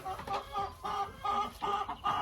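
Hens and a rooster in a poultry enclosure cluck in quick, overlapping bursts, fairly close and moderately loud, with no talk.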